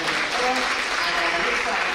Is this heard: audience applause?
yes